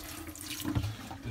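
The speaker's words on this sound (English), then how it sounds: "I like to pour antifreeze in all of the P-traps." Antifreeze is poured into the P-trap of a sink in an RV travel trailer, giving a steady, close, watery trickle and gurgle down the drain for a moment.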